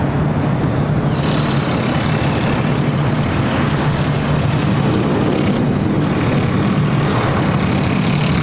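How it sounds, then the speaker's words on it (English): A Japan Airlines Dreamliner jet airliner at LAX produces a loud, continuous broadband roar with a steady low drone, sustained without pause and heard without any talking. "Got a Japan Airlines Dreamliner heading to the south side."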